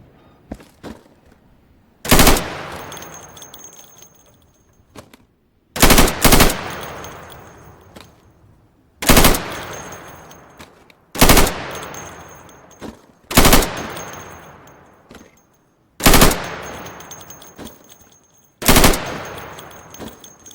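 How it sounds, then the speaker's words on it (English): Sidearm pistol shots in the Insurgency training range at pop-up targets, loud sharp reports fired singly and in quick pairs every couple of seconds, each trailing a short ringing decay, no talking. "So you can shoot accurately over 20 feet with your sidearm."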